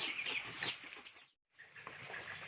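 Chickens cluck and chatter close by in a busy, noisy barnyard, with a brief pause in the middle before the clucking resumes.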